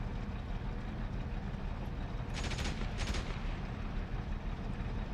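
Two short rapid bursts of a Panther tank's machine gun in DCS World, heard at a distance over a steady low engine rumble.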